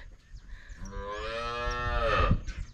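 Cows moo loudly at close range, one long drawn-out bellowing call that rises and swells before breaking off, set against farmyard background noise during a scuffle between the animals.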